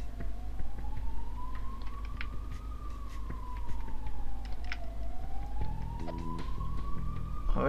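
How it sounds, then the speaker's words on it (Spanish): A game siren from a police ambulance in Evoland 2 rises and falls in a slow wail under a steady background hum, with a few brief clicks and tones near the end. "Ahí está la policía de ambulancia."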